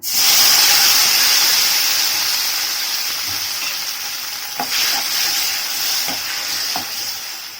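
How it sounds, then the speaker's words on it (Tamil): Two ripe tomatoes fry in sesame oil in a pan for a Tamil chutney, giving a loud steady sizzle and hiss. Occasional spoon clinks and stirring knocks sound as the sizzle slowly eases, with no talking. "இந்த எண்ணெயிலேயே ஒரு 2 தக்காளியை பழமா சேர்த்து நம்ம இதுல சேர்த்துக்கலாம்."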